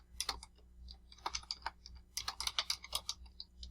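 Quick bursts of keystrokes on a computer keyboard, irregular clusters of soft close clicks with short pauses between, quiet and alone.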